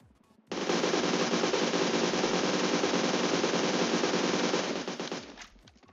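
AUG A3 rifle in PUBG Mobile fires one sustained full-auto burst of about five seconds, loud and dense with rapid rounds, starting abruptly and tailing off at the end, with no talking.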